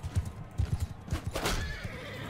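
A horse whinnies in the middle of a cavalry battle in Mount & Blade II: Bannerlord, a loud rising neigh heard over rhythmic clip-clopping hooves and the din of fighting.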